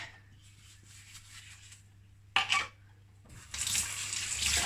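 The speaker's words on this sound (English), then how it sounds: "And then just rinse them. Rinse these well." Jars and their lids rinsed under a running kitchen tap, a steady moderate stream of water with a sharper splashing burst midway and a louder, fuller gush toward the end.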